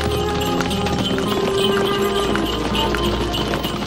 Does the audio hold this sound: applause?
no